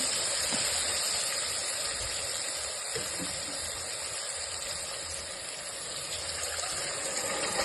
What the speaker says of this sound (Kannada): ಈ ಕಪ್ಪಲ್ಲಿ ಒಂದು 3 ಕಪ್ಪಷ್ಟು ನೀರು ಹಾಕ್ಕೊಳ್ತಿದ್ದೇನೆ